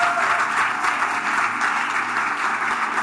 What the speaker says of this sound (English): you have to clap well for Jesus Christ